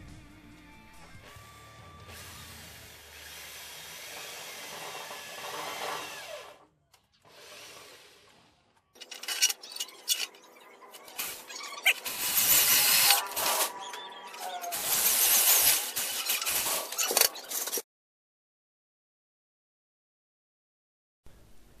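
Drill boring mounting holes for a cooling fan in the metal case of a CCTV DVR power supply; loud harsh grinding bursts come in close, uneven spurts after a quieter stretch of handling, then stop into silence.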